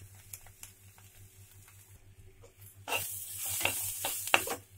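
Chopped spinach for vegetable soup hits a hot pan partway through, bursting into a steady close sizzle with scraping stirs on top, after a quieter stretch of faint clicks and a low hum.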